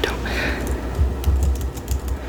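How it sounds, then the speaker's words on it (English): Crisp, quick MacBook keyboard clicks tapping in an irregular rhythm, close up, with a faint voice at the start. "I guess the typing is kind of crispy"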